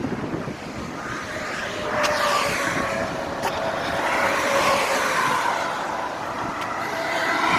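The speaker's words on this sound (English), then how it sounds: "that traffic bothers me. I'm not used to it. Everybody's going so fast." Fast road traffic passing near a wooded trail between Bears Den and Harper's Ferry, West Virginia: a steady roar of vehicles swelling and fading as they go by, with wind noise over it and no talk.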